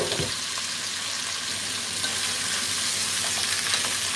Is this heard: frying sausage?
yes